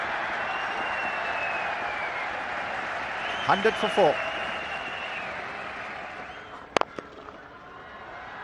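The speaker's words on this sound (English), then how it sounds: "the loud cheer is for India's 100" Stadium crowd at an India versus England cricket match in the 2006 ICC Champions Trophy, roaring and applauding as India reach 100, a broad steady cheer under a commentator's voice, with a few sharp whistles and shouts rising above it.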